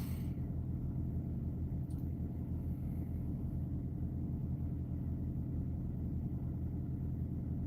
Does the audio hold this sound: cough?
no